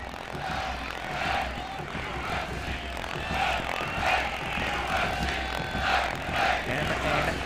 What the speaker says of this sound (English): You can hear the crowd trying to play their part.